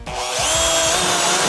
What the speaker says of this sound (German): da darfst du jetzt zwei Löcher reinbohren.